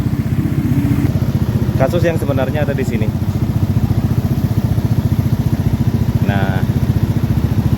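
Honda Beat FI scooter engine idling with a fast, steady pulsing putter, close and continuous, while someone talks over it for a few seconds.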